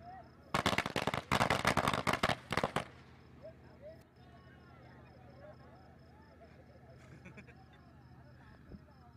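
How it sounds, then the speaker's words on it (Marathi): Firecrackers burst at a local cricket tournament ground in Kolad, a rapid loud string of cracks for about two seconds, followed by crowd murmur and faint calls. "फटाक्यांची आतषबाजी इथे मात्र केली जाते"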